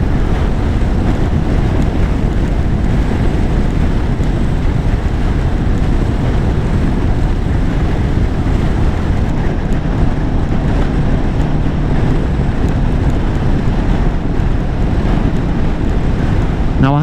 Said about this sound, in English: Yeah, the wind certainly picked up since this morning.